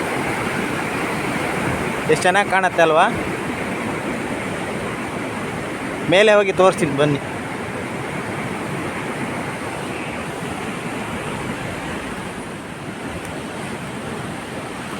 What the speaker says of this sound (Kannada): ಡ್ಯಾಮಿಂದ ಹೊರಗೆ ಬಿಟ್ಟ ನೀರು ಇಲ್ಲಿಂದ ಹರ್ಕೊಂಡು ಹೋಗುತ್ತೆ ನೋಡಿ